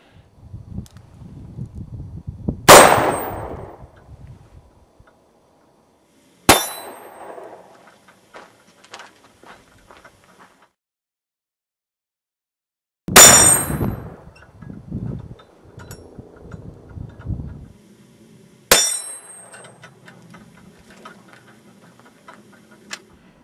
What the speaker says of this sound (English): what I'm going to do is we're going to shoot this steel target and see how much movement